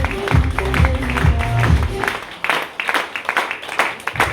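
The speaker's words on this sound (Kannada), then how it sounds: "ಎಲ್ರಿಗೂ ಒಂದು ಜೋರು ಚಪ್ಪಾಳೆ ವೆಲ್ಕಮ್ ಮಾಡೋಣ" Audience applause welcoming first-time guests and leaders at a training session. Loud clapping builds and continues in dense bursts after a short stretch of a voice talking over the room.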